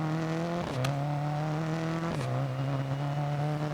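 A rally car engine in Dirt Rally on an Australian stage, running with reduced power from a damaged radiator and overheating, holds a steady loud drone with two brief dips as the revs shift, no talking over it.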